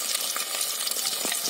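Two cracked eggs with salt frying in a pan for scrambling into bhujia, a steady close sizzle with scattered soft pops and stirring scrapes.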